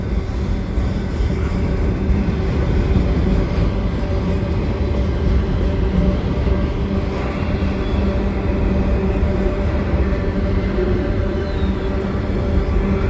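A long CN freight train with four locomotives rumbles past nearby at the Lachine Canal Bridge, a steady low roar of heavy engines and rolling wagons holding loud and continuous throughout.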